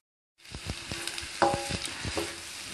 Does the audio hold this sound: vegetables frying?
yes